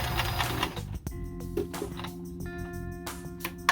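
A sewing machine stitches forward through fabric in a mid-loud run, briefly pausing partway and then resuming, with no talking.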